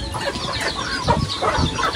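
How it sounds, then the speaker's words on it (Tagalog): Several chickens cluck close by in a steady, overlapping chatter, with a busy farmyard background. "Nagsisilapitan po yung ibang alaga dito ni Papa na mga manok."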